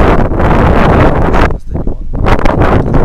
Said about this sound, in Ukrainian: Коротше, такий вітер, що ви собі просто не можете уявити.